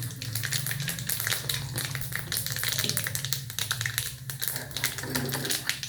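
Cumin seeds tempering in hot oil alongside dried red chilli, fenugreek and mustard seeds give a steady, dense crackle and sizzle full of tiny rapid pops, close and continuous throughout.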